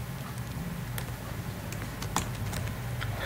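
Computer keyboard keys clicked while entering SAP ABAP code, with scattered soft ticks and light taps at an irregular typing pace, quiet and close against a low steady background hum, no voices.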